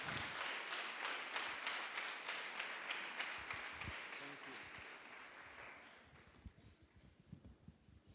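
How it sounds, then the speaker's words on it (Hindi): Applause from an audience at a youth camp session greets a speaker: dense, sustained clapping fills the room loudly, then gradually thins into scattered claps before fading. "आइए तालियों के साथ स्वागत करें ब्रदर सलीम को"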